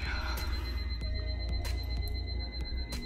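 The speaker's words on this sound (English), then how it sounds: "Sorry about that beeping." Sharp, brief electronic beeps repeat irregularly, about six short tones over a low steady hum.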